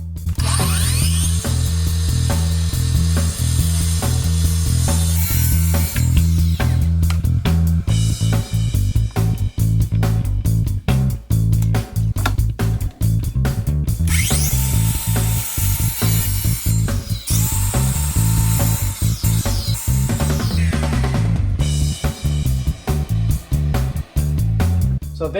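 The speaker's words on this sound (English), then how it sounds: "we'll be able to head over to the miter saw now," A loud power miter saw whines continuously, with its pitch rising into a harsh rasp during two separate cuts through wood.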